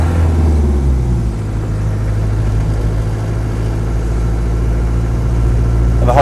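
A Land Rover 90 with a 2.5 diesel engine drives along, its low engine drone steady and loud from inside the vehicle, with a slight shift in pitch early on as it changes speed.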